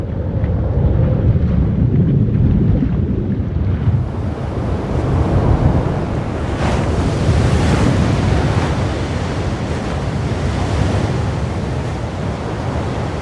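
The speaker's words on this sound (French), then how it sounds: "Une terrible tempête se lève." A violent storm at sea, with loud roaring wind and heavy surf crashing continuously, a dense unbroken rush of water and gusts filling the whole stretch with no voices.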